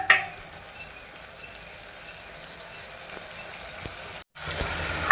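Food stirred and frying in a pan gives a soft, low sizzle with a few sharp utensil clinks near the start, and a brief dropout just before the end.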